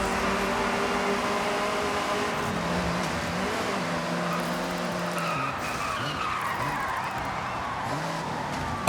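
An engine whines and revs in a racing video game while the tires skid and squeal throughout. The car is sliding with little grip. The sound is steady and fairly loud, with rising and falling pitch sweeps and no talking.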